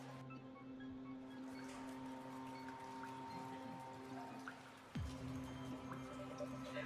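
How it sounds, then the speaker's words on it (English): Water drips in the survival horror game Concealed over a steady low ambient drone, with small faint drip ticks scattered throughout and a brief downward swoop near the five-second mark. No one speaks. "I think I heard the sound of water nearby."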